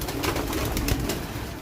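Young racing pigeons about four to five months old coo steadily at close range in a loft, soft throaty calls repeating over a constant low rumble with no talking.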